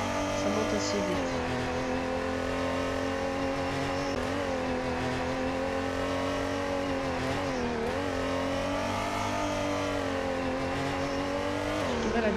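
Engine of a car in a driving video game revving and accelerating steadily, loud and continuous with rising pitch sweeps, heard throughout with no pauses.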